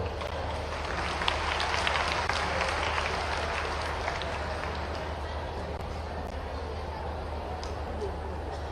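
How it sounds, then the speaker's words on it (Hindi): An audience at a student recognition and award ceremony keeps up steady, continuous applause, with many hands clapping at once in a dense, even wash of sound that is moderately loud and sustained throughout. "तो आपकी तालियां अविरल अविराम बजती रहे।"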